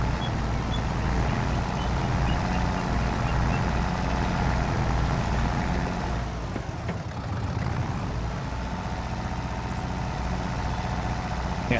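Tractor in a farming video game reversing slowly in low range, a steady loud engine drone with truck-like reversing beeps running continuously, a brief dip in the engine note midway.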